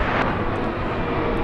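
An American Airlines jet inbound on approach to land at DFW Airport gives a steady, broadband engine roar that holds evenly loud throughout the short stretch.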